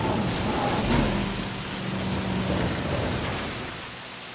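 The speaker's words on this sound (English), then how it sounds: "Storm is passing." A rainstorm in the video game Jurassic World Evolution on Isla Nublar: steady, dense rain hiss with low rolling thunder rumbling underneath, heard alone throughout.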